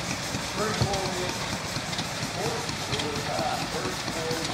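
A 1941 DCX garden tractor, an early four-wheel model with a 6-horsepower engine, runs steadily at a steam-era show, its low engine chug mixed into crowd noise while someone talks over it.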